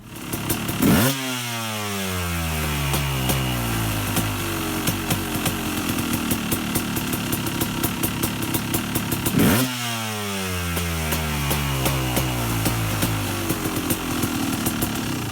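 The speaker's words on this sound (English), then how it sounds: "you're going to see the lever move as I rev the bike up" A KTM 250/300 two-stroke dirt bike engine is revved twice, each time a sharp rise to a high scream that then winds down through a falling whine, between stretches of busy idle.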